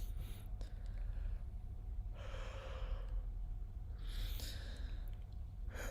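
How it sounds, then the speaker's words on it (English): A person forces a yawn during a singing lesson, a long breathy open-throated inhale followed by a softer airy release, close and intimate over a quiet room. "So just force yourself to yawn."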